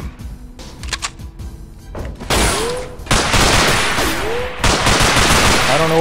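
Rapid bursts of gunfire in the shooter game Underhell ring out loud and close, with dense automatic volleys coming in waves and sharp impacts between them.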